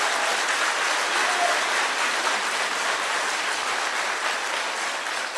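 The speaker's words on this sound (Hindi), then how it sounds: "जोरदार तालियों से इनका स्वागत है" Loud, sustained applause from a large crowd at a Congress party workers' meeting in Srinagar, steady dense clapping throughout with no pause.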